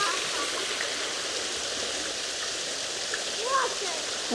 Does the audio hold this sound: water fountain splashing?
yes